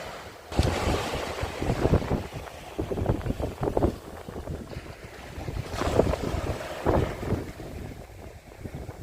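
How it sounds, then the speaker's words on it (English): Waves wash onto the shore in broad surges, with rushing water and wind noise filling the background; no one speaks. "love the sound of the waves"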